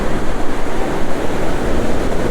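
Ocean waves break on a sandy swimming beach in a loud, continuous rush of close surf with no talking.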